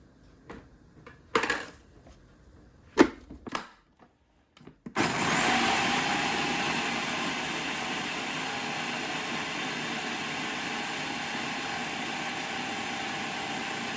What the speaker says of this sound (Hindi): हरी मिर्चें, धनिया और पुदीना सबसे पहले नीचे डालने से ये होगा कि ब्लेड उनको ज़्यादा अच्छी तरह से घुमा देगा